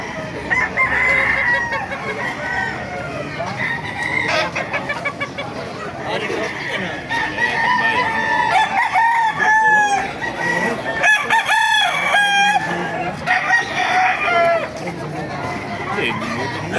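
Gamefowl roosters, including Melsim Black, Boston sweater and round head lines, crow repeatedly at a rooster gathering in Baliuag, Bulacan. Loud, overlapping crows and clucks sound close, under steady crowd babble and someone talking.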